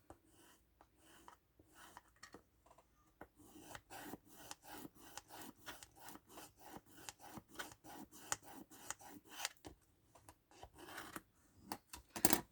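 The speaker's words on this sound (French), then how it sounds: "Et vous étalez bien votre colle." Glue being spread along the edges of a cardboard chocolate box, a faint rhythmic rasping of repeated short strokes, quick and steady, alone without talk.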